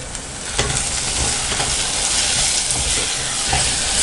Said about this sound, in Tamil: தக்காளி நல்லா வதக்கிட்டோம்.